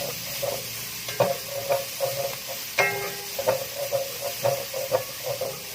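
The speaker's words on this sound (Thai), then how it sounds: "ใช้เนยสด ผัดกับหอมใหญ่ที่เราหั่นเปล่าไว้ค่ะ" Butter and chopped onion stir-fried in a pan with fresh butter, giving a steady soft sizzle broken by repeated scraping stirs of the spatula, close and moderately loud, with no talking.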